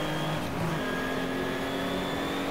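Race car engines whine and drone through the Craner Curves, a steady loud layered roar with a brief pitch shift of a passing car early on.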